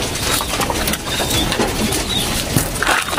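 Racing pigeons pecking at herbal feed, a dense, close, continuous rustle of rapid beak taps and crunching with faint wing shuffles and soft bird sounds mixed in.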